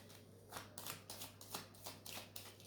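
Tarot cards shuffled by hand before a reading, a run of crisp papery riffles and slaps in quick bursts, close and fairly quiet with a steady low hum underneath.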